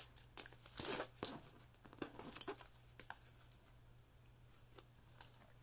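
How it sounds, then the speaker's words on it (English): Scissors snip through diamond painting material in a few quiet, crisp cuts with brief crinkling and rustling between them, close by and faint. "So I will take my scissors"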